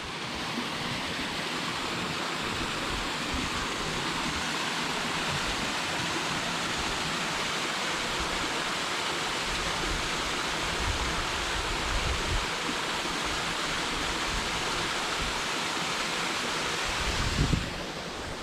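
A small waterfall spills into a creek in a redwood forest in Redwood National Park, giving a steady, full rushing hiss of falling water that stays constant from start to finish with no other sounds.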